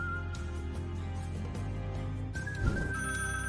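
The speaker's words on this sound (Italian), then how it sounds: "il detective viene interrotto dallo squillo del suo telefono" A telephone rings in a detective mystery scene, an electronic ringtone with steady tonal pulses over a continuous low musical bed, loud and close, with a brief thump near the end and no talking.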